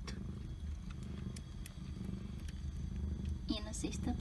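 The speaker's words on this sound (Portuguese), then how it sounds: "ela tá ronronando" A cat purrs in a steady, rumbling low drone up close, continuous throughout, with a few small squeaky sounds near the end.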